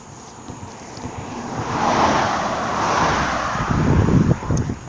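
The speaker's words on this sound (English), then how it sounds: "Let me get in the road because cars are coming." A car swells past on a nearby road, its broad whoosh rising and fading, with gusty wind buffeting the microphone.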